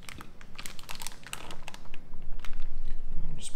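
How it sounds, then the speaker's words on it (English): A steak knife cuts a pork loin out of its plastic packaging, giving close crinkling, snapping plastic and scratchy cutting noises in a dense, irregular stream. "I'm just gonna cut it out of this packaging like so"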